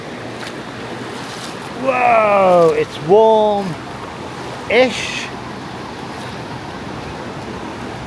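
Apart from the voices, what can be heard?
sea waves around a swimmer in Brazil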